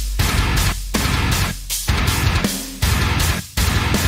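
Low-tuned 8-string guitars from a song hammer out heavy, distorted stop-start chugs with abrupt rhythmic breaks, loud and close, with a full band.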